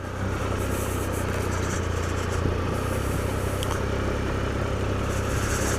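A Triumph motorcycle engine held at low revs while rolling along a wet, hard-compacted dirt trail in winter, a steady low rumble close up with continuous wind and road noise and no speech.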